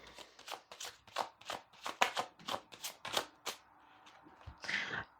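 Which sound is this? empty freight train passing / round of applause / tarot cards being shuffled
tarot cards being shuffled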